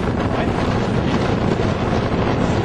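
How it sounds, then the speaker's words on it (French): Strong wind buffets the microphone at an outdoor football pitch before a match, a steady loud roaring rumble that persists throughout without pause. "Il y a du vent."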